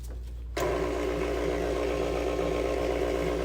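After a brief moment of quiet, a stand mixer's motor kicks on and hums steadily at a constant, moderate pitch.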